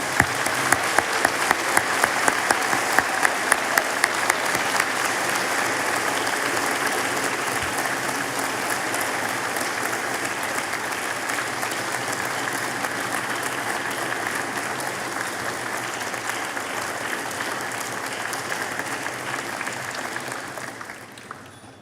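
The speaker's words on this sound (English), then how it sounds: "a round of applause to welcome our class of" A standing audience applauds the graduating class of 2025 at a university graduation ceremony, with a dense, sustained roar of clapping that holds steady for about twenty seconds before fading at the end.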